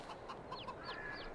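Chickens in a coop in Farming Simulator 22 make soft clucks and brief rising chirps, faint and somewhat distant over a low background hiss.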